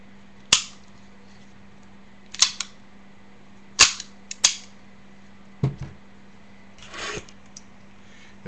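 Shots from a Ruger Mark III Standard .22 pistol at a range: about six sharp, separate cracks at uneven intervals over a low steady hum, fairly close, with no talking.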